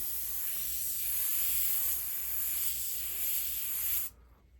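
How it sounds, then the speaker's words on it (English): An Iwata Takumi airbrush sprays in one steady, close hiss with a few slight swells in strength, running for about four seconds before it cuts off abruptly into near silence. "I'm gonna go spray some stuff now"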